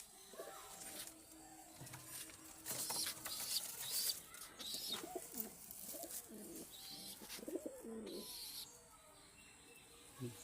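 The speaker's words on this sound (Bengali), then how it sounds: "এটা কি পায়রা? এটা গিরিবাজ, শিয়া পায়রা।" Giribaz pigeons coo in soft, repeated low calls at close range, with other birds chirping and scattered handling noises and faint voices around them.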